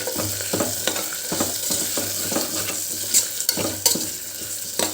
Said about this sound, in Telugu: ఒక 1 మినిట్ ఈ ఆయిల్లో మగ్గనిచ్చుకుందాము వాటిని.